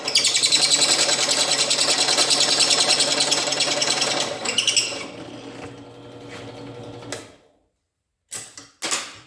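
Power drill with a step bit cutting through a metal mount for a homemade rotisserie, a loud whirring, grinding drone for about seven seconds before it winds down, followed by brief handling clatter.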